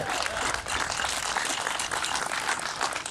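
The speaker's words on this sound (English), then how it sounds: "can we just get a round of applause for these heroes who gave us our freedom?" A room applauds two 99-year-old veterans, Ted and Felix, at their birthday gathering: steady, dense clapping from many hands fills the space for a few seconds without a break.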